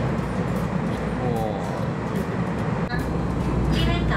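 Interior of a Taiwan Railway train at a station: a steady, loud low rumble of the carriage and engine fills the whole stretch, with faint voices and a brief squeal of metal near the end.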